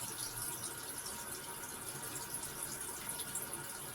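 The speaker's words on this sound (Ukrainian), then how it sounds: "перше її треба помити холодною водою" Cold tap water runs steadily over a carp being rinsed in a sink, a constant close hiss of flowing water with no breaks and no talk.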